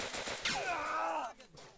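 Game gunfire from an MP40 submachine gun in the WWII shooter Easy Red, a short loud burst with a ringing, whistling tail that fades over about a second.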